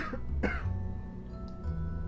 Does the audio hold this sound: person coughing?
yes